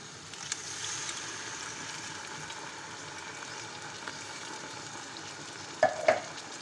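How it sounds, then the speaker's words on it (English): Beans frying in a pot give a steady low sizzle throughout, with a couple of brief louder scrapes or knocks from stirring near the end. "You allow it to stir and fry a little bit."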